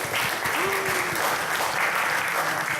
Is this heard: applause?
yes